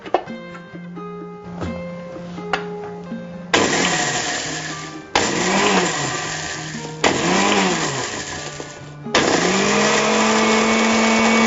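A blender grinds soaked basmati rice for phirni in several loud bursts. The motor whines up each time it starts, with a short sustained tone at the start.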